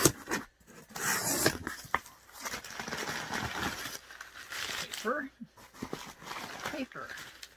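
Packing paper crinkles and rustles close by as a reborn doll is unboxed, with scraping and tearing bursts and a person talking over it.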